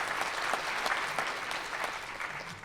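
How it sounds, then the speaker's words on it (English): Audience applause at an awards ceremony honoring a community organization, a steady dense patter of many hands clapping through the whole stretch, fairly distant and even. "let's just take a round of applause for that organization and the work that they're doing"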